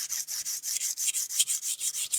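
A knife is drawn back and forth across a relatively new 250 grit plated diamond stone with moderate pressure, giving close, rhythmic gritty rasping strokes at roughly six per second, with no talk.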